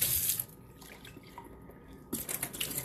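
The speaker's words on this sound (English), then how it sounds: "I rinse them out" Tap water running over sprouting seeds as they are rinsed in a jar: a close hiss of flowing water that drops away briefly, then returns with splashing.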